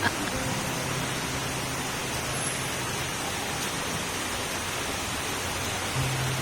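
Heavy typhoon rain pours down steadily in a dense, unbroken wash of noise, loud and close, with no break for the whole stretch.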